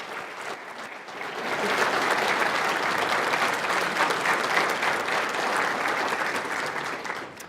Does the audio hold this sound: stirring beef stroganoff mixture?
no